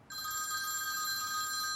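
A telephone rings steadily and loudly indoors in a home drama scene, a bright continuous electronic ring with no talking over it.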